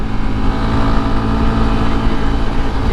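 A loud, continuous motorcycle engine roar held at high revs in third gear on a rutted Baja California road, steady and close, with no pauses.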